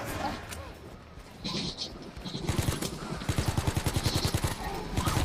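Explosive guns fire rapidly in Call of Duty: World War 2 gameplay, bursts of fast rhythmic shots that grow steadier and louder toward the end, mixed with game noise and some voice.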